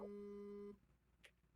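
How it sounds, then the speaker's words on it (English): An online call plays its unmute and then mute notification sounds: a steady two-tone beep that holds for under a second, then a faint short blip shortly after, over a quiet background. "No, that was Tyler unmuting and muting himself."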